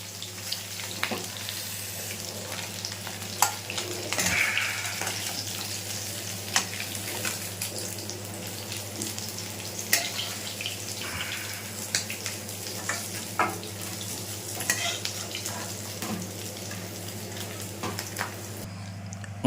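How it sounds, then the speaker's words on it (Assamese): Tura fish fries in oil in a pan over a village-style fire, giving a steady, moderate sizzle with scattered pops and a low background hum throughout, with no talking. "মোৰ মাছখিনি সম্পূৰ্ণকৈ ভাজা হৈ গ'ল দেখিছে ধুনীয়াকৈ ভাজিছোঁ"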